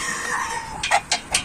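Three quick clucks from a chicken, close and distinct, following a stretch of steady background noise.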